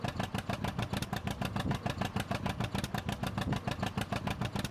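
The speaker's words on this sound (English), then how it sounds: "you gotta love the sound of that tractor" A steady, chugging tractor engine in Farming Simulator 19 idling at a fast, even rhythm, close and continuous, with no voices.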